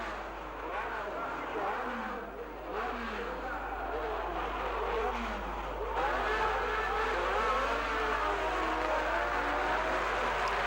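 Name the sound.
Formula One race cars at the Monaco Grand Prix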